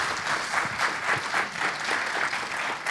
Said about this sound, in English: A round of applause for speaker.